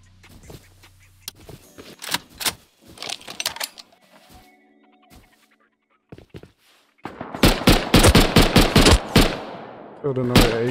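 AK rifle fire in the game Rust comes in bursts: scattered shots early on, then a loud sustained rapid volley near the end, with quieter gaps between them and voices speaking at points.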